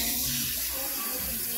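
Hot water running from a tap while rinsing afro hair at a salon basin, a steady close hiss of flowing water with no other sounds.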